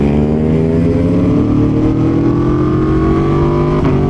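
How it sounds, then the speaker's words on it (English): A loud V-twin motorcycle engine revs up, its rumbling note climbing steadily in pitch, close and continuous throughout. "There's some V2 noise for you."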